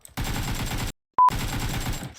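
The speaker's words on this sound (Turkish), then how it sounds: "Ön tarafımda silah sesi." Rapid automatic gunfire in PUBG Mobile in two dense bursts separated by a brief silence and a short electronic beep, loud and close.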